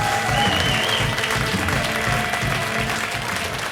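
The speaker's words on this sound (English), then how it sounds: "Ladies and gentlemen, a big round of applause for Cassidy Cowell." A comedy class show audience gives a big round of applause as a comedian is introduced, a dense, loud wash of clapping that holds steady throughout.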